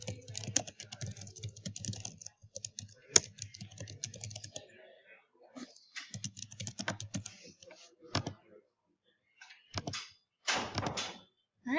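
Typing on a computer keyboard while entering sign-up details on a website, with bursts of rapid key clicks separated by short pauses and a few louder thunks, close and clear.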